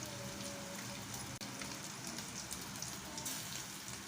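Radish pieces frying in hot oil, giving a steady, even crackle and sizzle that holds for the whole moment with no talk over it.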